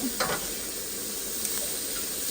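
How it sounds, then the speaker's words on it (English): Butter and chopped onion sizzle in a pan with a steady, close frying hiss, broken by a couple of brief scraping sounds from a utensil stirring them, with no voice. "We're going to stir that together and just let that cook until the onion is a little bit softened"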